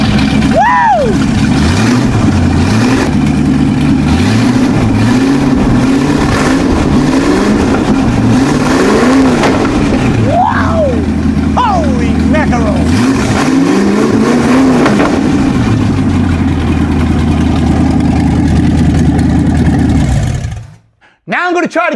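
Car engine fired up after a carburetor cleaned in Pine-Sol and a distributor timing adjustment, running steadily and loud with surging revs close by, a fan belt hooked up, brief voice bursts over it, then cutting out near the end.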